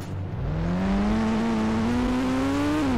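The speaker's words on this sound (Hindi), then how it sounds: "फायर ट्रक को चलाने पे सुपर कार जैसी आवाज आती है" Fire truck engine in the Indian Bike Driving 3D game, sounding like a supercar: a loud, steady engine drone whose pitch climbs gradually as it revs, then dips slightly near the end, alone with no talk.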